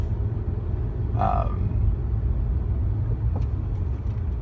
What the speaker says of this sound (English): car almost hit me